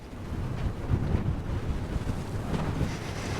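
Wind buffets a microphone at an abandoned mining camp in Nevada, a steady low rumbling roar with gusty swells, close and fairly loud, no voices.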